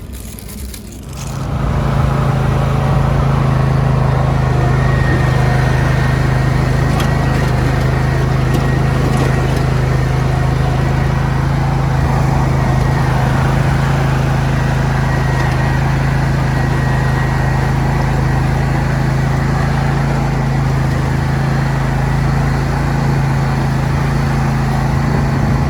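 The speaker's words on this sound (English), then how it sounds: "Still a bit of mowing" Steady engine drone of a lawn mower running nearby, continuous and fairly loud for the whole stretch, with a constant low hum and no talking over it.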